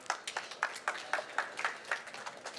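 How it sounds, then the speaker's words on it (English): Sparse applause from an audience at a design talk at the K2022 trade fair, a handful of distinct claps in a steady, uneven rhythm, moderately faint and with no voices. "So please give him a big round of applause."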